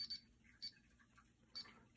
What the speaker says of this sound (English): see now it starts beeping